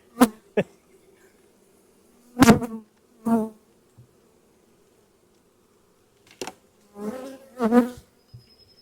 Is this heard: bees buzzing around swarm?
yes